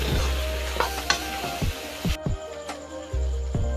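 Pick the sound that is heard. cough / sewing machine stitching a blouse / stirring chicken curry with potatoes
stirring chicken curry with potatoes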